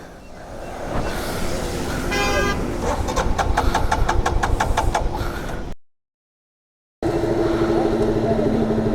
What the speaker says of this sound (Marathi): गाडी स्टार्ट होते पण आपोआप बंद पण होते